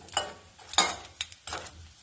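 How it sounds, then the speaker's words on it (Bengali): Oil sizzles in short bursts as lentil fritters deep-fry, with occasional stirring and clinks of a utensil against the pan. "তো এইগুলো ভেজে নাও বড়াগুলো"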